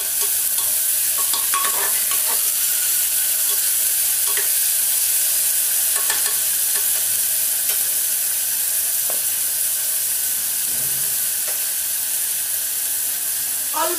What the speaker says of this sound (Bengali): এবার পেঁয়াজটা পুরো ভালো করে ভাজা হবে